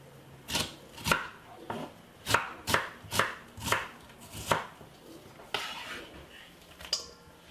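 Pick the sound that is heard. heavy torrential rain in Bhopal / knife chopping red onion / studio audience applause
knife chopping red onion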